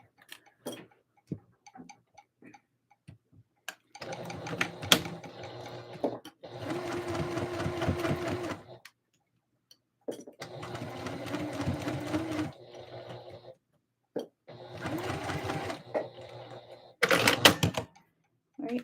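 A sewing machine bastes seams on a Christmas dress in several bursts of rapid mechanical stitching, each run a few seconds long, separated by quiet pauses with small clicks and handling noises.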